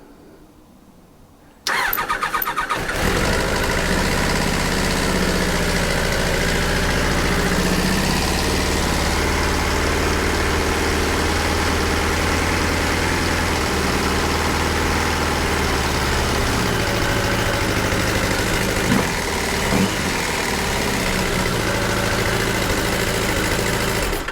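A Kawasaki GTR1000 motorcycle cranks over with the choke on and fires, then settles into a loud, steady, close-up idle that holds unbroken for over twenty seconds with no talking.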